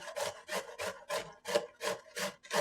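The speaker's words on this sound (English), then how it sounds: "just grate all that up" Cauliflower is grated in a bowl for pizza crust, eight quick, rhythmic rasping strokes against the grater, close and fairly quiet, with no one speaking.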